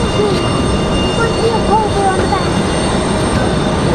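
A Frontier jet passes at Raleigh-Durham International Airport, a loud steady engine roar with a high whine running throughout, while people talk briefly over it.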